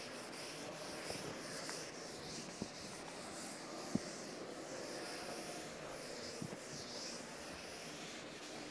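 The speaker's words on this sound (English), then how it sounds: "I'll just rub the board." A classroom board being erased in a steady, soft rubbing that runs throughout, with a few faint knocks and no speech, quiet and close.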